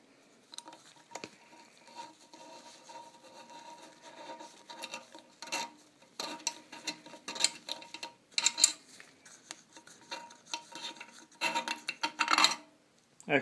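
An improvised iron tool works loose the ring nut on a Vespa wheel hub, giving faint, irregular metallic scraping, rubbing and clicking that comes in bursts and grows busier toward the end.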